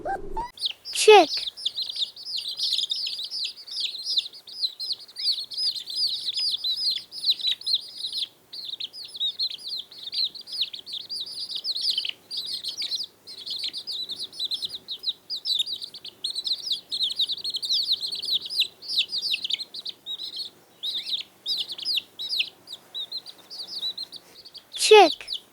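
Steady high-pitched chirping of a farm chick, rapid repeated peeps continuing alone and fairly close for the whole stretch with no talking.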